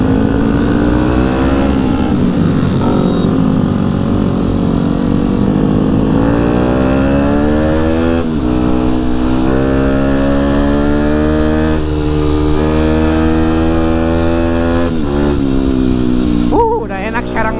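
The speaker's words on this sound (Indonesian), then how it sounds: "Udah enak sekarang motor mah larinya." A Yamaha WR 160 supermoto motorcycle on a group Sunday ride, its engine loud and close throughout, rising and falling in pitch through gear changes, under wind noise and a rider's talk.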